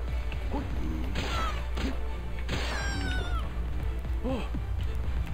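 A small cat creature in the video game Palworld lets out several short, rising meows and yowls over constant game background noise, interspersed with hits and brief clatter.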